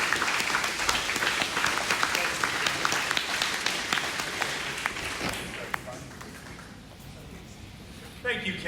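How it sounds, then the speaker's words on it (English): An audience at a Democratic party town hall in Lockhart, Texas applauds to welcome a speaker, with loud crowd clapping that fades over several seconds before a voice begins to speak. "give him a warm applause to Lockhart,"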